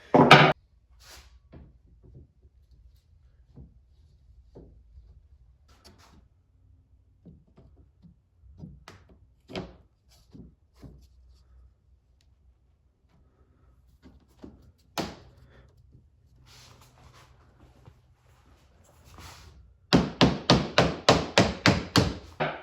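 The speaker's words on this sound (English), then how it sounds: "use your tap-in block. You put it on the side there, you tap it in" Quiet scattered taps and knocks, then a fast run of about eight sharp, even taps close by at the end, as LifeProof vinyl floor tile is tapped in with a tap-in block.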